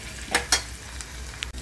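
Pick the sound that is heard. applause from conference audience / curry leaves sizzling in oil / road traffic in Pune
curry leaves sizzling in oil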